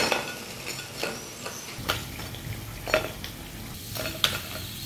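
Potatoes for aloo zinger fry in a pan over medium flame, a steady soft sizzle with a few light scrapes and clinks of a spatula, fairly close and with no voices.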